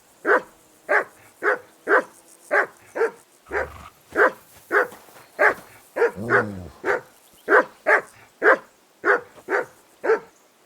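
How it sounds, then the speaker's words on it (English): A dog barks repeatedly in Kingdom Come: Deliverance 2, a steady string of loud, close barks about twice per second, with a brief whimper or growl mixed in partway through. "That barking was a pain in the ass."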